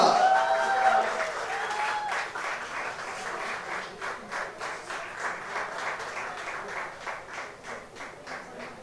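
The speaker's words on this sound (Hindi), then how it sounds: "जोरदार तालियों से स्वागत कीजिए" Audience applause fills the launch event for the Zee TV reality singing show Sa Re Ga Ma Pa, a dense, sustained wash of clapping that starts loud and settles into a steady, slightly softer roar.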